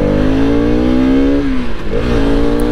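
A Bajaj RS 200 motorcycle engine revs loudly and close by on an empty road, pitch climbing steadily, dipping briefly, then rising again, with no voices.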